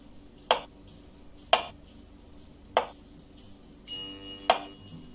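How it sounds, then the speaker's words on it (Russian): A kitchen knife slicing through a lemon on a cutting board: four crisp, separate chops spaced about a second apart, close and sharp against a quiet room, with no talking. "Режем лимон, ладно. Режем лимон."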